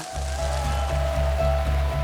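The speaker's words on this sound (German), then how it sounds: "Und jetzt regnet es hier wirklich unglaublich." Heavy rain falling outdoors during a televised Swiss card-game event, a dense continuous hiss and patter with a low steady rumble underneath, loud and unbroken throughout.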